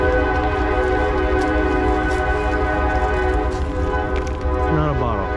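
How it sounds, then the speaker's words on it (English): A loud train rumbles past with a sustained horn blaring over the steady grinding roar of the rails. "Sounds like there's a train somewhere around here."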